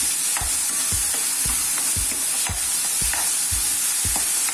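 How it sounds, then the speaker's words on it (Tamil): Ground paste fries in hot oil over a medium flame, a steady sizzle broken by regular scraping strokes of a spoon stirring the pan, close and continuous with no voices. "அந்த பேஸ்ட் எடுத்து ஆட் பண்ணிக்கோங்க. பண்ணிட்டு அதையும் சேர்த்துட்டு அதையும் நல்லா மீடியம் ஃப்ளேமில் வச்சு வதக்கி விடுங்க."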